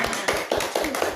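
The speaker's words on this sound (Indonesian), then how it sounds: "Baik, tepuk tangan untuk Tepuk tangan." Children clapping their hands together in a classroom, about five sharp, evenly spaced claps close by, loud and rhythmic with no talk.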